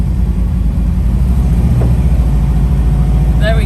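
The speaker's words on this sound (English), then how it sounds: "Okay, I've got to hit the engine. Rev it up." A Bowler Wildcat rally car on a Tunisian desert rally: its engine holds a steady, loud, low rumble close by throughout, with no sharp rise in revs.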